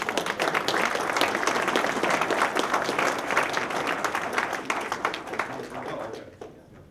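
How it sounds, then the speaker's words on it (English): Audience at a talk on the Texas border breaking into a round of applause, loud crowded clapping with some cheering voices, holding steady for several seconds before thinning out and stopping abruptly. "Let's give a round of applause."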